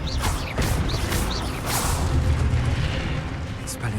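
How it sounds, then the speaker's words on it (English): Expelliarmus disarming spell cast in Hogwarts Legacy, heard as repeated whooshing bursts and booming impacts over a busy, continuous battle din, with several swishes in quick succession. "Expelliarmus will disarm you brutes."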